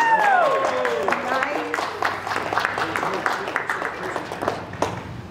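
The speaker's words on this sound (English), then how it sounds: "Big round of applause." Audience applause at a Porsche dealership launch event for the 2020 Taycan, steady clapping from a crowd with a whistle at the start and voices mixed underneath, sustained at moderate level throughout.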